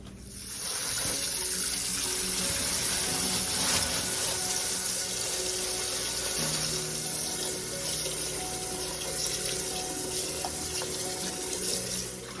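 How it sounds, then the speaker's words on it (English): Tap water runs steadily into a sink while grapes are washed, a continuous close splashing gush with faint handling noises underneath. "So the first thing I need to do is wash the grapes."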